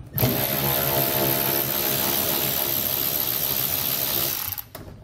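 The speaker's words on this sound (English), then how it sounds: "We're going to remove all of those with an 8mm socket." An 8mm socket tool spins out the bolts around the outer lip of a truck bed while a B and W Companion 5th wheel underbed hitch kit is installed. It makes a steady, loud, close whirring buzz for about four and a half seconds, then stops, with no talk.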